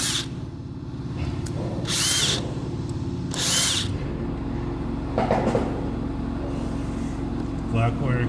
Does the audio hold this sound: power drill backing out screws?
yes